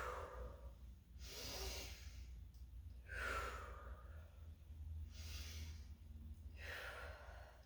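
Slow, deep breathing during a joint and muscle warm-up exercise: four or five audible breaths, near and soft, in a steady rhythm with pauses between them.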